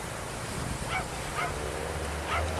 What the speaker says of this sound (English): There's a little doggy barking away.